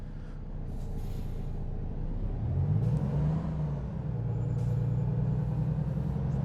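Engine drone of a truck driven in the American Truck Simulator game heading into California, a steady low hum that rises and holds through the clip with no talking.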